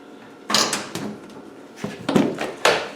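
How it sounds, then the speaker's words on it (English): Doors of a Land Rover 130 being opened, a couple of close, loud latch clunks and rattling thumps spaced about two seconds apart, with no talking. "So I open my doors"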